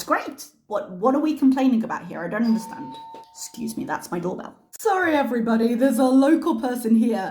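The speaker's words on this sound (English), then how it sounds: "Excuse me, that's my doorbell." A home doorbell chimes briefly with a short tonal ring, mostly buried under ongoing conversation.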